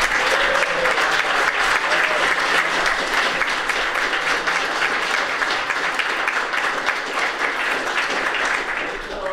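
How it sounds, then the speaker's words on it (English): Audience at an awards ceremony applauds nominees standing in attendance; dense, steady clapping fills the room for about nine seconds and tapers slightly at the end. "if you guys could stand so we can clap for you."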